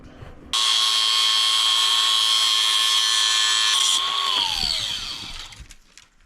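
A power tool whirs up and cuts steadily with a loud, sustained high-pitched whine for several seconds, then winds down to a fading spin, while a broken bridge is removed at a pond.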